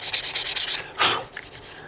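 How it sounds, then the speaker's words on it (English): Short, rhythmic strokes of sandpaper rubbing the binding of a custom 12-string dreadnought guitar, a quick run of scratchy passes followed by a longer sweep and a few lighter rubs, close and fairly quiet. "Needs a lot more sanding in other places."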